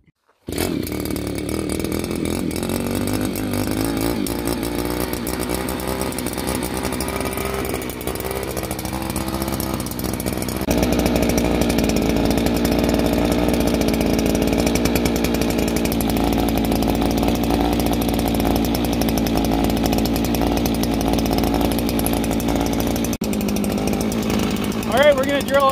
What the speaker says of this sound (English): we're gonna drill our hole right here just to do a test and see how it works.